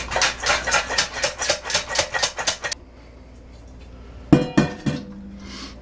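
Buttered, seasoned pan-popped popcorn is shaken in a bowl. About a dozen quick, rhythmic rattling shakes come close up, then a pause, then a single sharp clatter as it is tipped into another bowl.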